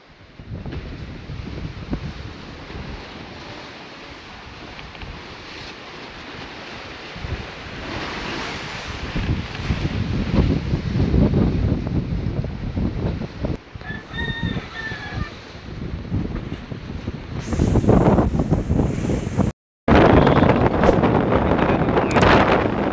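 Strong wind buffets the pilot house of a boat on rough seas, roaring and gusting into the microphone with crashing surf, growing louder toward the end with a brief cutout.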